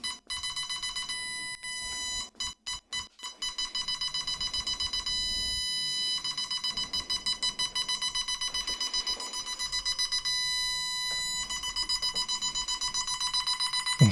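A Temu parking distance sensor fitted to a Renault 4L sends out rapid, repeated electronic beeps. They come in fast trains broken by short pauses, ringing loud and close with a light mechanical background.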